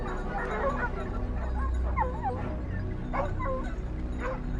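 A pack of hunting dogs on a wild boar hunt in forested, rocky hills, yipping, whimpering and giving short excited barks over a steady outdoor rumble, with muffled voices in the background.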